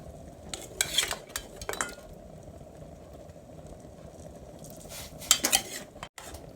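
Blanched pork bones clatter into a pot of boiling water in two bursts, knocking against the metal, over a steady low simmering hum, while making pork bone soup with pickled mustard greens.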